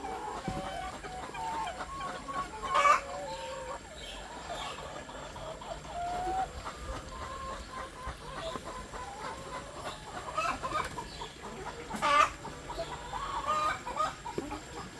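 Laying hens kept indoors in their coop cluck and chatter softly and steadily, with a couple of louder squawks standing out over the quiet, continuous background of the flock.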